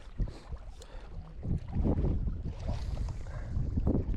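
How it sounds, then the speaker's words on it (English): Strong, gusty wind buffets the microphone outdoors on a cold solo overlanding trip with a Ford, a loud, continuous low roar that swells in uneven surges. "it's pretty windy"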